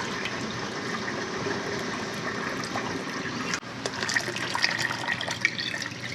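Water runs steadily from a tap, topping up a canning pot for a batch of pico de gallo salsa; a continuous, fairly close gush with a brief dip partway before the flow resumes, no talking.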